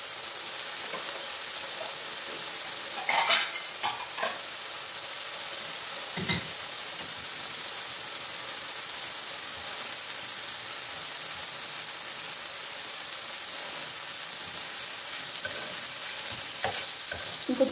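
Adana kebabs sizzle steadily in a hot pan, a constant soft crackling hiss with occasional clinks and scrapes of stirring, no voices over it.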